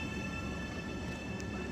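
A train pulling into a station in Italy fills the clip with a continuous loud rumble and wheel-on-rail noise, close by and steady, with no voices.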